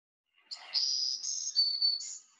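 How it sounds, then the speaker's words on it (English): Song of a black-throated green warbler, heard alone as a clear, high, buzzy phrase of several connected notes lasting about two seconds, fairly faint and close. "And then the blue, black-throated green warbler also has this song."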